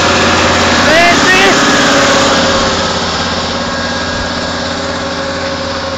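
Farm tractor engine roaring loud and steady while working a field during subsoiling and manure spreading, with a brief rise in pitch as it accelerates and someone talking over it.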